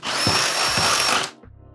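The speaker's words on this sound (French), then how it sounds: "maintenant, je vais percer le montant qui est juste derrière." A power drill bores into the metal upright of a Geberit Duofix wall-hung toilet frame, a loud steady whine of about a second and a quarter that stops abruptly, leaving a faint hum.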